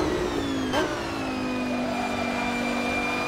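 Racing video game car engine accelerating, a steady mid-pitched drone that dips briefly near the start, then holds a smooth rising tone, close and fairly loud with no talk.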